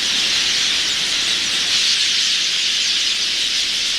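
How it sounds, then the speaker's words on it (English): A huge flock of quelea birds fills the air with a dense, continuous high-pitched chattering roar, loud and unbroken throughout. "A Quelea flock can number up to 30 million birds."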